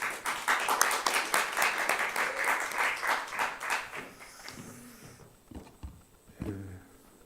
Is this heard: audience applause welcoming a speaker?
yes